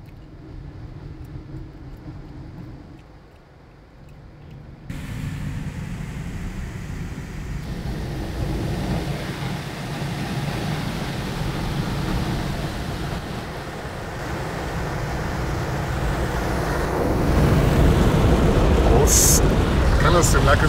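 Inside a car going through an automatic touchless car wash, jets spray the wheels with a steady, heavy roar of water that swells louder toward the end, and a voice talks over it.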